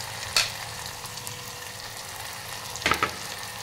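Onion fries in hot oil in a pan for a masala okra tamarind stew, giving a steady, close sizzle with two brief louder bursts as it is stirred.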